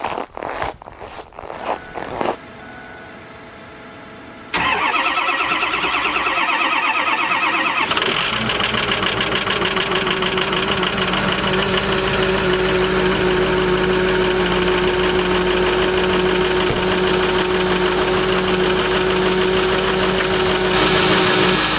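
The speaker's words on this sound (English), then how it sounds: "I need to get this truck started so I can get to the store." A truck engine in extreme Minnesota cold cranks through a few short, uneven turns before catching, then settles into a steady, loud, rumbling idle that runs on alone for well over ten seconds.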